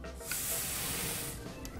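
A kitchen blowtorch caramelizes sugar on a torrija, a steady close hiss of gas flame held for the whole moment without talk.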